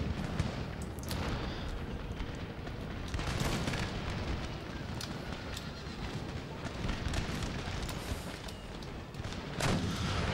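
Artillery booms and crackling musket volleys in Empire Total War with Darthmod, an American campaign battle: a steady, dense barrage of overlapping blasts and pops rolls on throughout, loud and continuous with no pauses.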